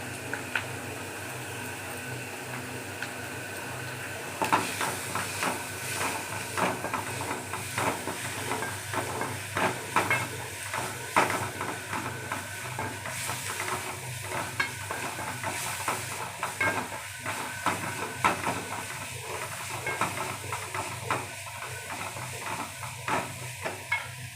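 Coriander and mint leaves sautéing in a pan, a continuous hissing sizzle with a dense run of spatula scrapes and stirring clatter, loudest in the second half, close up and with no voices.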